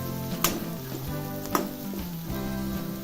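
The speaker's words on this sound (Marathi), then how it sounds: "आता डाळ भाजत आलेली आहे थोडीशी परतून घ्यायची" Soaked toor dal roasting in a pan while being stirred, a continuous close sizzle with occasional scraping clicks from the stirring.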